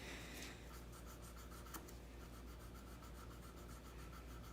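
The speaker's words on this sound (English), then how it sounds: "Now I'm sanding what I buffed" Steady rasping strokes of hand sanding on a cedar wood surface, close and continuous with a faint repetitive rhythm.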